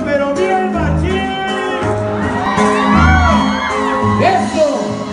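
Concert crowd at a live norteño show, whooping and shouting loudly over amplified music with sustained sung and shouted voices throughout.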